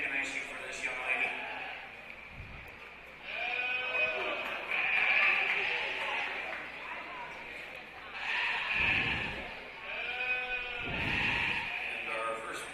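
Sheep bleat repeatedly at the O'Brien County Fair lamb and sheep show, several loud, wavering cries rising over a show-ring announcer talking through the scene.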